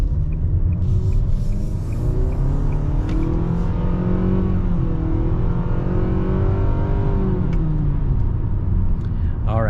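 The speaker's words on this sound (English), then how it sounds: "I think I might get the inner wheel to spin on this uphill with a turn" A 2022 Nissan Sentra accelerates uphill through a turn with the inner wheel briefly spinning; a loud, continuous engine drone rises in pitch from inside the cabin, with no other sound over it.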